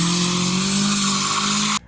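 Mercedes-Benz W203 C270 five-cylinder diesel engine idling steadily close by, a continuous low throbbing drone with a faint higher whine, alone without talk, cutting off abruptly near the end.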